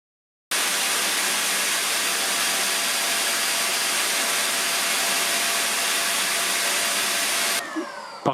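A Silvercrest SHZK 600 A2 corded 600 W vacuum cleaner starts abruptly and runs on carpet, a loud, steady broadband roar that holds for about seven seconds, then cuts off, leaving a few small knocks.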